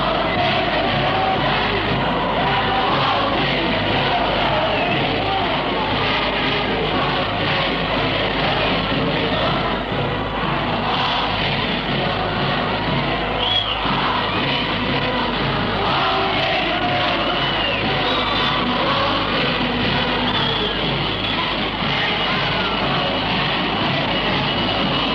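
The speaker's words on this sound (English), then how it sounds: "here's the crowd singing Waltzing Matilda." A large Melbourne crowd sings Waltzing Matilda together, a dense continuous wash of massed voices heard from a distance on a narrow, radio-like recording.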